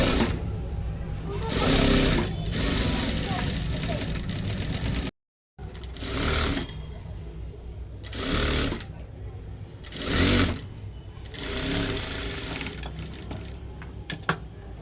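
A sewing machine stitches a blouse in steady fast runs, its rhythmic whirring broken by brief stops and one sudden silent gap, while someone talks over the work throughout.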